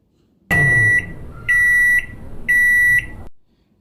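A microwave oven heating a dish of food sounds three loud, steady electronic beeps, each about half a second long and evenly spaced, close and clear with a low hum underneath.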